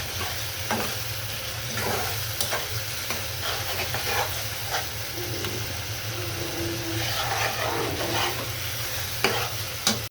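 Spice paste for a liver and potato curry being sautéed in oil, a dense continuous sizzle with spatula scrapes at irregular intervals over a low steady hum.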